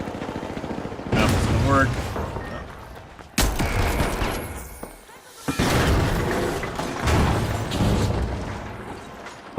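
Frag grenade blasts and gunfire in the game The Finals: several loud, booming bursts arrive in close succession with dense shooting between them, while a player talks over the action.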